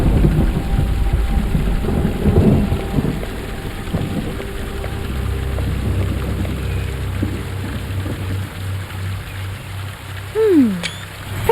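Heavy rain pours steadily in a thunderstorm in the video game Perils of Man, with rolling rumbles of thunder throughout and a short rising whistle-like tone near the end.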